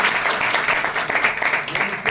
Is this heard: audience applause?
yes